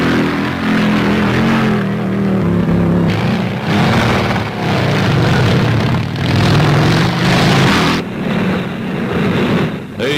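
U.S. Army dispatch riders' motorcycles riding cross-country, a steady loud engine drone that rises and falls with shifting revs over rough terrain, continuous throughout.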